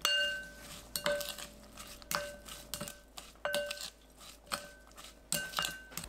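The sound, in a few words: mixing onion, chili and scallion seasoning in a bowl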